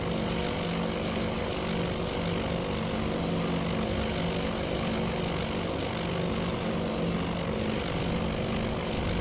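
Propeller-driven bomber engines in the naval combat game Task Force Admiral drone in a loud, unbroken roar that holds steady from start to finish.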